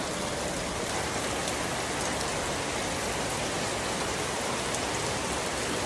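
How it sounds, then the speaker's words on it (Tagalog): Steady, dense rainfall hissing evenly on surfaces, close and continuous throughout with no voices. "Oh, ulan ha."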